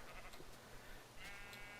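A sheep bleats faintly in a survival video game at night, brief bleats set against quiet ambient background, distant and soft.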